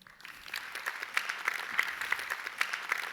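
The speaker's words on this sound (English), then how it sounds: "let's hear a warm round of applause" A crowd applauds steadily, the dense clapping sustained and fairly faint throughout.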